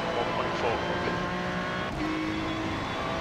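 A GT3 race car in the iRacing sim at Mugello, its engine a steady, close, layered drone that holds a fairly constant pitch with small shifts throughout.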